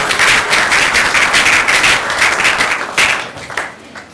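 A church congregation at a closing revival service claps and applauds loudly and continuously, then the applause thins and fades over the last second.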